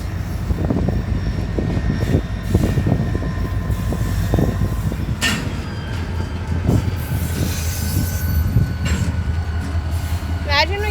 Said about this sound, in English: Imagine we got to see these BNSF locomotives move.